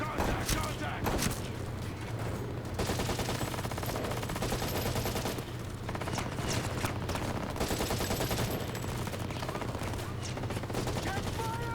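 Sustained automatic gunfire in Ghost Recon Breakpoint, loud and continuous with rapid overlapping shots and deep booms filling the whole stretch, with no break in the firing.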